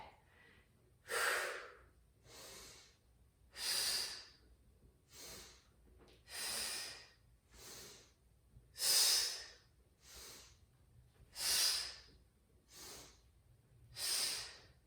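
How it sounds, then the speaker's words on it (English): Someone on suspension exercise ropes breathes audibly in and out in a regular rhythm, about ten close, forceful breaths alternating with short pauses. "Inhale, exhale, inhale, exhale, inhale, exhale"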